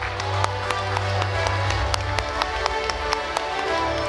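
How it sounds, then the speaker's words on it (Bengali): Applause from the audience at a real estate award ceremony during a trophy presentation, steady clapping with sharp individual claps standing out, filling the hall throughout. "একবার জোরে হাততালি হয়ে যাক।"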